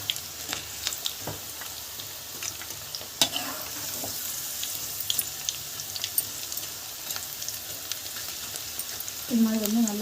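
Jackfruit pakoda frying and being stirred in hot oil, a steady close sizzle with scattered pops and scraping stirs throughout, briefly swelling louder near the end.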